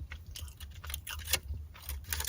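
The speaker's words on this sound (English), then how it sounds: "Sorry, I'm chewing a lot." Someone chewing food close to the microphone, with soft, irregular crunchy mouth sounds over a few seconds and no talking.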